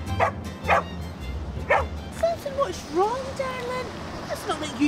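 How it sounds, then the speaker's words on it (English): A dog barks in several sharp bursts early on, then whines and yips in rising, wavering tones, close by, over a low background murmur. "That's not like you to be barking."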